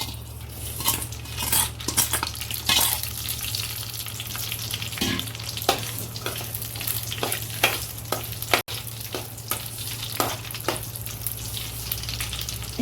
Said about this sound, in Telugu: ఈ వేయించిన రొయ్యలను వేసేసుకుంటున్నాను ముందుగా.